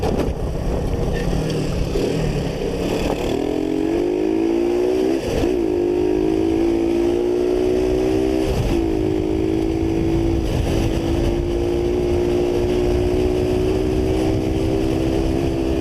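Kuba Dragon 50 110cc motorcycle engine revving high and holding near redline, a loud, steady, buzzing drone that climbs in pitch and stays strained with heavy vibration, running continuously up close with no talking.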